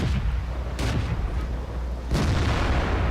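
A Su-100Y tank destroyer's cannon fires in a video game, two heavy booming shots about a second and a half apart, each followed by a rumbling tail over steady low battle noise.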